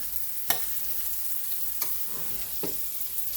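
Mushrooms and shrimp sizzle in a hot veggie skillet over a fire, a steady close frying hiss broken by three sharp spatula scrapes or taps spaced a second or so apart.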